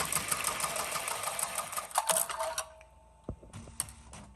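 Embroidery machine stitching a small purse, a fast rattling stitch sequence that slows into a few separate mechanical clicks and thumps near the end.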